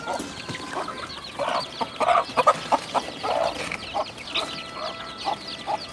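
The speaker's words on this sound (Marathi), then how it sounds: "तर हे जे आहे ते गावरान कोंबडी गावरान कोंबडीच्या अंड्यावरच असे केलेले आहेत" Desi gavran hens on a village poultry and goat farm cluck in repeated, uneven bursts, close and fairly loud, with several birds overlapping and no one talking.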